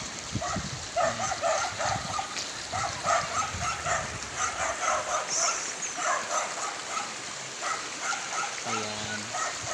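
Pet dogs bark and yip in scattered bursts beside a clear provincial river, moderately close, with flowing water and faint voices in the background and a brief whimper near the end.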